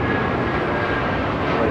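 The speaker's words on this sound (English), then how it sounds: "1625 taking off to Newark on a 757-200" A United Airlines Boeing 757-200 taking off from LAX for Newark gives a loud, steady jet engine roar with a thin whine on top, brief and unbroken.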